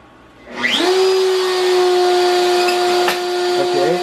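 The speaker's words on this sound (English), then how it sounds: "I'm going to go turn on the spindle." The spindle of an Inventables X-Carve 1000 x 1000 CNC router spins up from a low hum to a loud, steady high-pitched whine that holds constant, with a brief click partway through.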